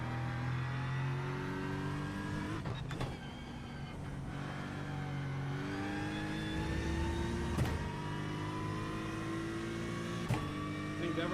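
A diesel race car engine in iRacing drones steadily with shifting revs and occasional gear changes, a continuous mid-pitched simulated engine note throughout with a faint voice now and then.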